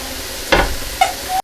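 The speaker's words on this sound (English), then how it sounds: "You can hear it sizzling." Beef for Philly cheesesteaks sizzles and fries in a pan with a steady hiss, broken by a few short stirring scrapes and clatters, close and fairly loud.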